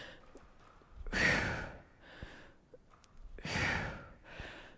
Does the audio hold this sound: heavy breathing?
yes